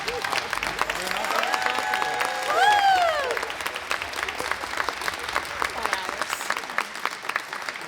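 An audience applauds at a school jazz band concert, steady clapping throughout with a voice rising briefly over it near the middle.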